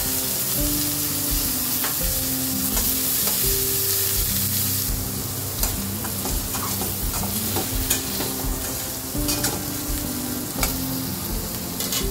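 Carrots added to a pan of fried maya fish and stirred, with a steady sizzle and frying hiss, scattered clicks and scrapes of the utensil, and a low background hum throughout.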